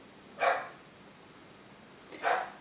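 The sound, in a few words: dog barking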